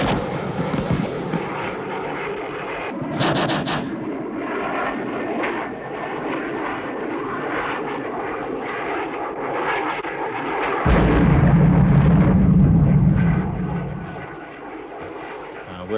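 US Marine aircraft delivering rockets, bombs and napalm during the Vietnam War: a loud, continuous engine roar with heavy rumbling bursts, swelling into a deeper, louder blast near the end.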